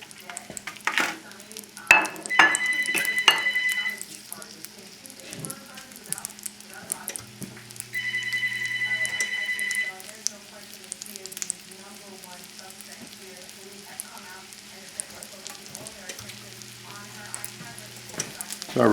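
Pieces of veal rack, about half an inch thick, fry in a hot pan with a steady sizzle, broken by a few sharp clatters and stirring noises and brief tonal beeps.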